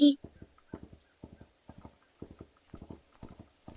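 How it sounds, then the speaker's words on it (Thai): A horse gallops past in a fable scene, fleeing a lion past goats on a grassy meadow. Rapid, rhythmic hoof clip-clops run steadily throughout at moderate loudness, under narration. "เจ้าม้า ที่กำลังถูกสิงโตไล่ล่า ก็วิ่งผ่านมา พบกับพวกแพะพอดี"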